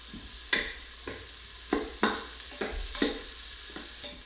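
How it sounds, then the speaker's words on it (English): Garlic sizzles in an Instant Pot while a utensil stirs it, with about eight distinct scraping strokes over a steady close-up frying hiss. No one speaks. "And keep stirring that. You don't want your garlic to burn."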